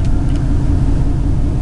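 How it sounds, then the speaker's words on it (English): A truck engine idles steadily in a garage with its air conditioner running, producing a continuous low rumble and hum, loud and close, with no voices. "Letting the air conditioner run because I left the truck out in the sun."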